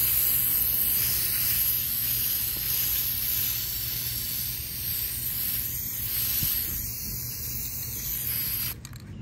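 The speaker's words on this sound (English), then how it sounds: "we're just going to start spraying and see how this textured look goes on this birdbath" Rust-Oleum hammered copper spray paint hisses steadily from an aerosol can onto a cast iron birdbath, a continuous close spray with brief pauses near the end.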